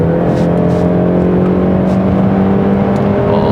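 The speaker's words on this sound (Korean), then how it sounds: "최대 회전수까지 올려도 이제 보통 이제 비례해서 엔진 소리가 커지잖아요" A 2024 Mercedes-Benz E 200 engine drones steadily at high revs, a loud continuous hum with a faint whir on top, no speech.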